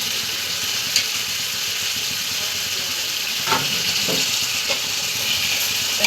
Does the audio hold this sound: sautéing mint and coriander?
yes